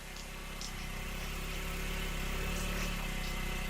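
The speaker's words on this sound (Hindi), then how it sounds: "मेरे बेटे की गाड़ी की आवाज सुनाई दे रही है" A car arrives with its engine running, a steady low rumble and hum that grows slightly louder, heard alone without talk.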